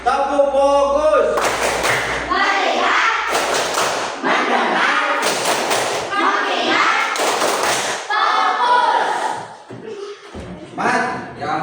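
Classroom focus clap, a group of children clapping in quick bursts of sharp slaps, loud and close, alternating with chanting voices.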